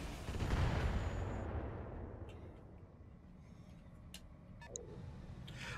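A light mortar carrier fires in the RogueTech mech game: a heavy booming burst swells at the start, then a long rolling rumble fades out beneath a few faint scattered clicks.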